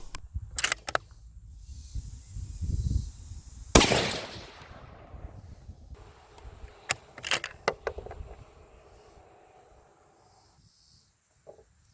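A 6.5 PRC rifle loaded with 120 gr Speer Hot-Cor bullets fires a single sharp, loud report, followed by scattered clicks and handling noises, then quiet near the end.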